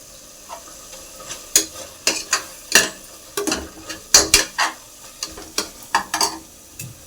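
Peas rice masala with yogurt and a handful of coriander leaves being stirred in a hot pan, a soft sizzle broken by a run of sharp, irregular spatula scrapes and knocks against the metal.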